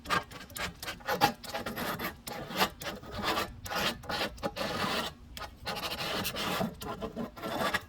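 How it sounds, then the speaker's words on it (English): A knife scrapes old silicone off the glass along the top of an aquarium, worked back and forth in a run of close, gritty rasping strokes separated by short pauses. "If we go back and forth like this with the knife, it will actually end up taking most of the silicone off here."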